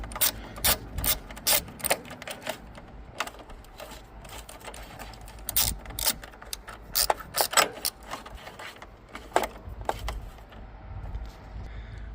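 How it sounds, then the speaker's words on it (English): A battery holder is tightened down over the 12V battery in a Hyundai Veloster, a string of sharp ratchet clicks in quick irregular bursts, close and clear against a low background hum. "First I'm gonna secure that battery holder."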